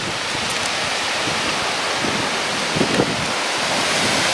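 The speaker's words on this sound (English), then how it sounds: "Look at that wind gust." Gusty wind in a small town, blowing leaves off elm trees, roars steadily as broadband rushing noise close to the microphone, with brief stronger buffets near the end.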